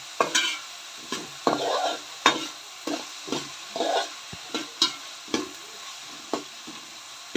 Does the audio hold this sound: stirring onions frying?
yes